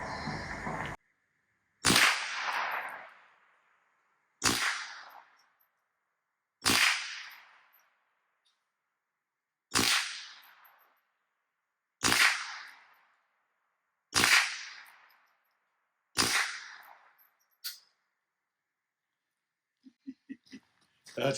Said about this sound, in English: really having a good time with this this Ruger 22 long rifle, the Plinker